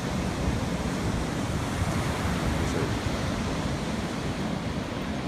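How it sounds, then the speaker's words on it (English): Strong, fierce ocean waves at Venice Beach during El Niño conditions, a loud continuous roar of surf close by with wind buffeting the microphone and no voices. "Waves are there's still pretty fierce waves with the El Nino still coming through."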